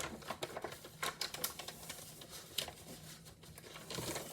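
A sheet of paper is creased and folded for a paper airplane, giving close, quiet crinkles and sharp crisp taps in irregular bursts with no talking.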